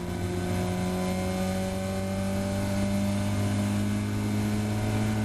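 A Caterham race car's engine drones steadily at high revs along the Silverstone Grand Prix circuit, heard loud from onboard, with a steady tone and a slowly shifting pitch.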